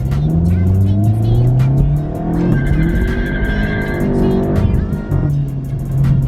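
A Volkswagen swings through a quick U-turn, the engine revving and rising in pitch with a brief tire squeal mid-turn, heard from inside the car while a person talks over it.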